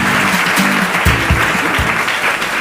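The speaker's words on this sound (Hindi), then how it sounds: "तालियां हो जाए।" Studio audience on the Hindi quiz show Kaun Banega Champion bursts into loud, dense applause that runs steadily throughout, with a few low thumping accents underneath.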